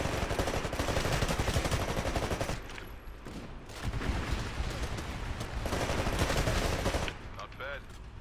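Rapid gunfire in Titanfall on Xbox 360, dense bursts of automatic shots crackling loudly, briefly thinning around the middle before resuming, then fading near the end as a faint voice comes in.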